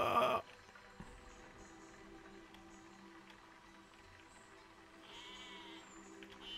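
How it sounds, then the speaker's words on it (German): Sheep bleating in the physics sandbox game Besiege: one loud bleat opens the clip, followed by quieter game ambience and faint further bleats near the end. "Ach, die armen Schafe. Jetzt hauen sie ab, okay."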